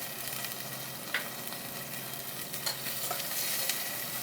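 Seasoned tomatoes for veggie burgers being stirred in a pan, a steady soft sizzle with scraping and clinking of the utensil against the pan, close and continuous, with no talking.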